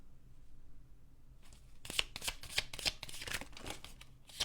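A large deck of cards shuffled in a quick burst of riffling flutters after a quiet start, close and fairly soft, with no voices.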